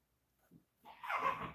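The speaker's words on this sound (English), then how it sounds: "those are the types of noises that my dogs will make every once in a while" Dogs make short, soft whimpering and huffing noises nearby indoors. A faint yip comes first and a longer whine-like sound follows, with no talk over them.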